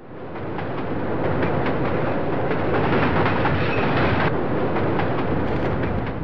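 Passenger train running on rails as a radio drama sound effect, a continuous rumbling roll with faint rhythmic clatter, steady and fairly loud throughout with no voices.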